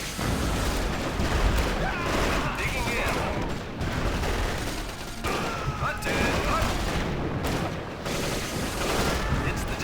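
Constant gunfire and distant explosions in a Guadalcanal battle in the real-time strategy game Axis & Allies (2004), a dense unbroken battle din with occasional louder shots.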